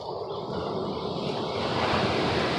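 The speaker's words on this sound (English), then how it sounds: "those waves are quite big" Big ocean waves break on a shoreline in a continuous loud roar of surf, with wind buffeting the microphone and no one speaking.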